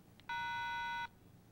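Motorola flip-style pocket cellular phone from 1995 gives a single steady electronic keypad beep when recall and pound are pressed, a clear tone lasting under a second against a quiet background.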